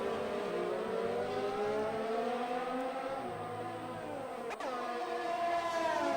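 F1 race cars on Bahrain's back straight in an Xbox racing game, a continuous high engine whine with rising pitch and layered gear tones, one brief click near the end.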